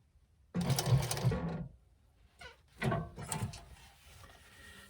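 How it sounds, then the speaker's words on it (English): A sewing machine stitches across fabric in two separate bursts of rapid mechanical whirring, close and clear, with quiet gaps before, between and after the runs. "I'm going to sew across that."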